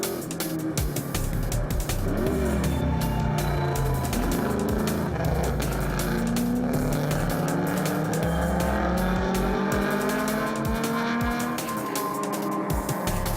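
Several race cars, among them a Ford Escort, roar around a circuit in a close pack, engines revving and shifting gears continuously with occasional tyre squeal as one car surges past another.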